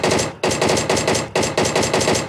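Loud, close automatic gunfire in a PUBG Mobile duo match on the Erangel map: sustained rapid-fire bursts broken by a few brief pauses, with no talking.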